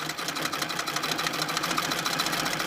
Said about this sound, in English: So I start treadling, and I have to make sure my treadle hand wheel is coming towards me.